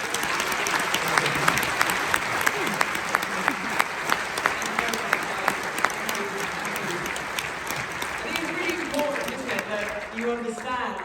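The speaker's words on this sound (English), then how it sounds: "give, when you've done your donating, a huge round of applause to Carlos, Paul, Nicky, and the wonderful Sophia" Steady applause from a crowd at a charity event, sustained for the full length with dense clapping and a few louder claps standing out, fading slightly toward the end.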